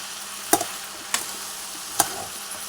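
Salt is stirred into ridge gourd curry cooking in a pan: a quiet, steady sizzle under three separate scrapes and clinks of the spoon against the pan, with no talking.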